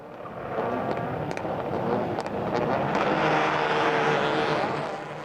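A pack of 18 TCR touring race cars, among them a Honda Civic, roaring off at the start of a TCR South America race, a loud dense engine roar with brief tire squeals that swells and holds steady.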